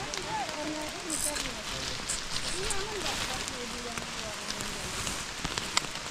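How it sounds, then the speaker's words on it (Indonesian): Steady rain pattering down during a hike up Mount Wilis, a constant soft wash of drops heard close around, with people talking throughout. "tiba-tiba ini jadi turun hujan yo"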